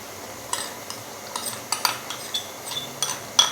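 Chicken karahi with ghee being stirred in a pan, a series of light metallic clinks and scrapes of the spoon against the pan at an uneven rhythm, close and fairly quiet.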